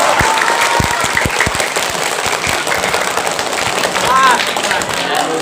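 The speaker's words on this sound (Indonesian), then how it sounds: "Tidak usahlah tepuk tangan." An audience at a religious lecture claps, giving a dense, noisy burst of applause with a few sharp thumps near the start. It fades into a steady wash with faint background sounds.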